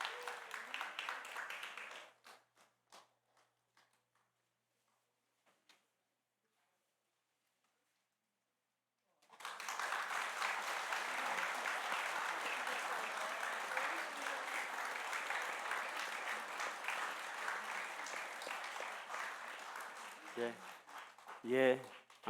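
At a church retirement ceremony for pastors, elders, deacons and deaconesses, the congregation bursts into loud, sustained applause during a flower bouquet presentation, following a brief burst of clapping and a quiet gap.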